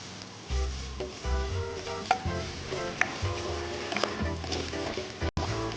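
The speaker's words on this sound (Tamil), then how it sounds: "இப்போ வெங்காயம் வதங்கிடுச்சு." Sliced onions fry in a hot pan with cloves for coconut milk rice. A soft sizzle runs under repeated stirring and scraping, with utensil taps and a sharp clink near the end.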